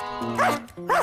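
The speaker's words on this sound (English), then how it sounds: "A dog." Cartoon dog gives two loud, close barks about half a second apart, each a bright yelping bow-wow over a steady musical background.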